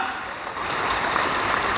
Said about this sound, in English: Come on, let's give him a clap.